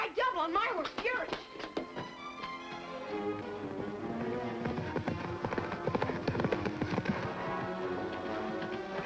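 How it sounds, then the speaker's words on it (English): Hooves clip-clop under music and a voice speaking, with a rhythmic patter of a horse ridden double through an outdoor scene. "We'll ride double on my horse, Fury."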